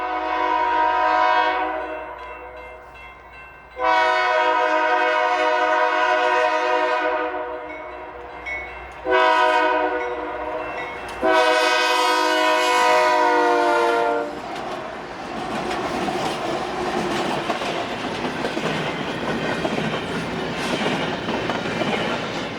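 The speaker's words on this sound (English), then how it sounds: "I turned off recording right as the rear of the train passes by" A Union Pacific freight train horn blares in several long blasts, loud and close, then gives way to the rumble and clatter of the short train rolling past.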